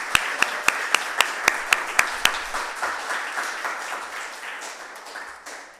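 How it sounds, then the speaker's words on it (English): Audience applause for youth organizations at a community awards event: one person's sharp, evenly spaced claps ring out close by over a growing spread of crowd clapping, which carries on steadily after the close claps stop. "Round of applause for both of these worthwhile organizations catering to the youth in our communities."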